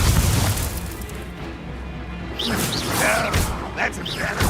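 A booming blasting-spell explosion in a wizard-duel video game, a heavy crash layered with rumbling effects under ongoing game sounds and chatter.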